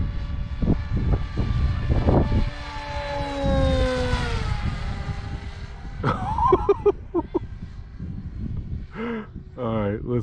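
An RC airplane with a 4S battery and 8x8 propeller makes a full-speed pass, its high buzzing whine rising and falling in pitch as it sweeps by, with a voice talking over the later part.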